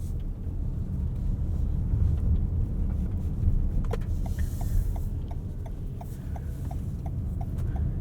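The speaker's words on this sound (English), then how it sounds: "when you're backing up in electric mode, you can hear this spooky little sound from a speaker under the car" A 2020 Toyota Highlander Hybrid Platinum AWD reversing in electric mode plays a soft, regular beeping warning tone from a speaker under the car, repeating evenly over a low rumbling background hum.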